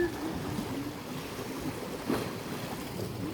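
Strong sea waves at a beach on a warm morning, a steady broad roar of surf with wind noise and one slightly louder wash of water midway.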